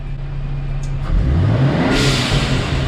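Upgraded 2020 Ford F-150 Raptor engine idling and then revving up sharply, loud and close, with a rising roar and a brief exhaust blast near the end.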